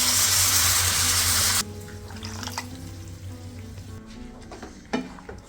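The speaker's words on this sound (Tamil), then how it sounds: "அந்த கறி சோஸ் பொட்டிலாலேயே ஒரு பொட்டில் தண்ணியும் விடும்" Water from an emptied curry sauce bottle is poured into a pot of hotdog curry, a loud hissing rush that stops abruptly, followed by quieter bubbling, a light clink and soft stirring sounds.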